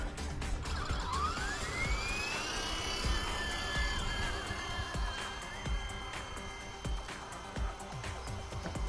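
A WLtoys V912 brushless RC helicopter spools up on takeoff, its high whine rising in pitch as throttle increases, then holding a steady buzzing hum close by with small rustling clicks.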